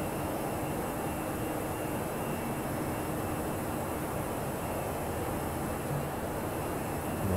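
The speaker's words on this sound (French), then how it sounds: "l'avion a atteint son altitude. Il va donc diminuer ce régime" An airplane engine at cruise altitude with its power reduced gives a steady, even broadband drone and hiss from inside the aircraft, unbroken and moderately quiet throughout.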